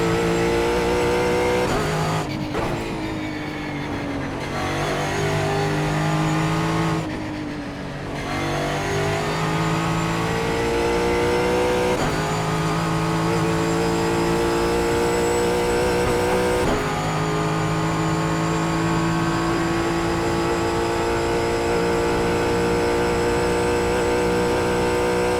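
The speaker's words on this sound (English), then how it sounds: "How good's the Mustang sound?" A Ford Mustang GT4 race car engine roars continuously in iRacing at the Nürburgring Nordschleife, revving up through gears with brief lifts and shifts, loud and steady throughout.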